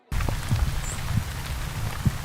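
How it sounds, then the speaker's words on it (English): Steady rain pours in the hills above Malibu, a dense, continuous patter with scattered closer drops tapping on nearby surfaces. "The soft patter of raindrops echoed in the hills above Malibu most of the morning"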